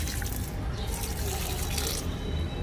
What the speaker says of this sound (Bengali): চলো এবার গাছে একটু জল দিয়ে দিই।